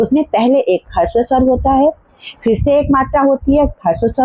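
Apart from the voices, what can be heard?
No distinct noise like a dog, phone or traffic.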